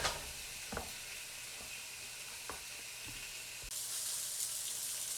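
Italian sausages sizzle and brown in a hot pan, a steady close-up crackling hiss with a few soft knocks and stirs, the frying growing brighter and louder near the end.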